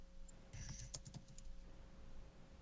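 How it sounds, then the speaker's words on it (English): A computer keyboard being typed on, a quick burst of soft, light key clicks in an irregular rhythm, quiet and fairly close, over a low steady hum with no talk. "I hear Jake typing up lost"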